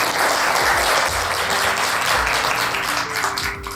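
A Rotary Club meeting audience gives a steady, dense round of applause welcoming a guest, loud and sustained with no pauses.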